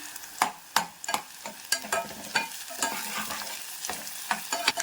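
Onions frying in oil in a pan while being stirred for an egg, capsicum and potato curry, a close steady sizzle broken by repeated scraping strokes of a spoon, no talking.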